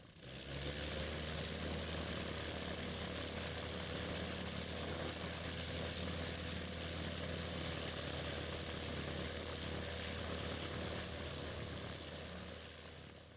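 A Fokker Eindecker WW1 monoplane engine drones steadily in flight, a loud, continuous propeller-engine roar with a low throbbing rumble that holds for the whole stretch with no voices.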